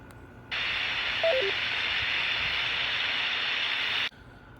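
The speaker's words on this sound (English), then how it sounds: "this local repeater should give us some kind of tones back" A local amateur radio repeater heard through a handheld 2 m transceiver with a whip antenna: a burst of loud, steady static hiss with a short falling three-note tone sequence early on, then squelch cutting it off.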